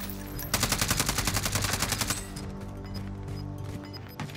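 Rapid automatic gunfire in a battle royale video game: a dense burst of shots lasting about a second and a half, followed by quieter in-game ambience.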